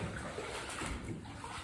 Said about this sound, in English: Trying to skirt around the side so I don't make a bunch of noise in the water